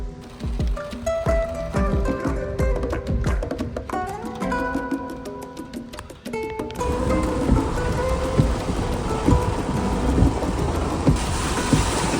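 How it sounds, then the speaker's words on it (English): A thunderstorm squall sweeps over a New Jersey surf-fishing jetty, with heavy rain hissing steadily and loudly, thunder rumbling low, and irregular clicks and rattles early on before the downpour takes over. "a thunderstorm squall swept through and retired me from the jetties for the rest of the day"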